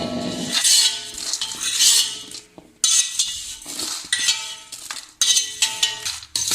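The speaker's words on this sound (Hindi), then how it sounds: "अब इसे हम स्टील के बर्तन में, बड़े बर्तन में निकाल लेंगे।" Roasted herbs being transferred into a large steel pot, with repeated metallic clinks and scrapes of utensil against steel, loud and close, in several bursts with brief pauses and no talking.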